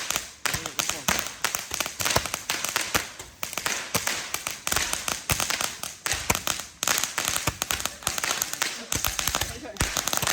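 Rapid strings of firecrackers crackle and pop continuously, loud and close, with brief pauses between bursts and voices faintly underneath, during Hari Raya celebrations in Johor.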